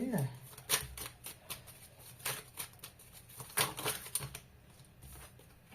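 Oracle cards being shuffled and drawn close up, a quick run of crisp papery flicks and snaps in an irregular rhythm.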